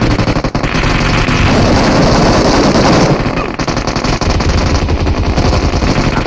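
Dense, loud automatic gunfire and explosions from a PUBG-style battle royale game fill the clip continuously, with a brief dip midway and little talk.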